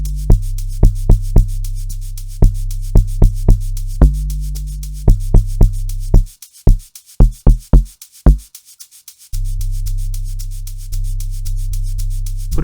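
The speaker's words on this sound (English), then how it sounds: "And here's my log drums." Amapiano log drums programmed in FL Studio: deep, punchy bass hits in a syncopated pattern, some with sustained low tails and a run of rapid descending pitched hits, loud and alone.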